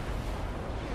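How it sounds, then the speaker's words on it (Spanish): A rocket blast from the video game NieR:Automata, a dense, sustained low rumble of explosive energy filling the whole moment with no clear gaps. "Ha dirigido los cohetes contra él."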